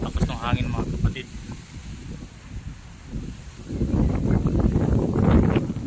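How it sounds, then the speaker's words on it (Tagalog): Strong gusty wind roaring across a microphone while cycling in Doha, Qatar, rising and falling in buffeting bursts with a louder surge toward the end, and someone talking over it. "malakas po yung bugso ng hangin"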